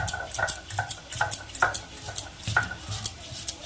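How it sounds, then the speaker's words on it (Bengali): Poppy seeds being ground into paste with a little water, producing repeated scraping and knocking strokes at a steady rhythm, close and moderately loud with no talk. "এবার পোস্তগুলোকে একটু করে বেটে নেবো একটু একটু করে বাটবো আর একটু একটু করে জল দেবো"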